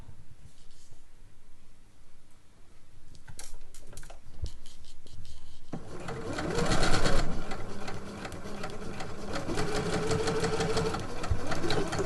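Sewing machine stitching caftan fabric, starting with a few taps and short bursts, then a loud, continuous whirring run of stitches at close range for the last six seconds.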